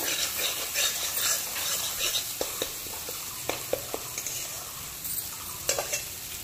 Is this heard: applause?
no